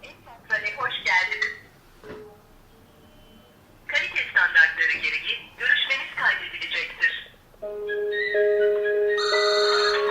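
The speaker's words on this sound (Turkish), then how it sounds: "Bu şekilde gördüğünüz gibi telefonlar çalıyor." Office desk phones on a PBX system ring with an incoming call: a steady electronic warble repeats for the last couple of seconds, after a person speaks nearby.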